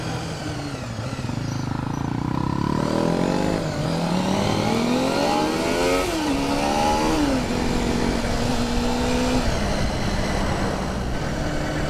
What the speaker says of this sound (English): I got an 88 model Honda CBR 250 single R. It's the carby version